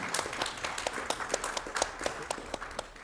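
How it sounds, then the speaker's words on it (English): A small audience at an amateur radio conference claps for a guest speaker, a quiet, fairly sparse patter of individual handclaps in an uneven rhythm, with no talking. "Please give him a warm applause."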